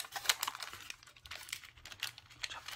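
Paper rustles and crinkles softly at close range while being folded into an Avatar origami creature, a banshee-like flyer, with scattered light creases and taps and no talking.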